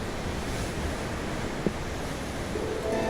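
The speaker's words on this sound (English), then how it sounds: "I'm looking at the ocean. The ocean? Yeah. The waves." Ocean surf in the game Tales of Arise, a steady close wash of waves and breezy noise with a faint tick midway and a soft tonal hint near the end.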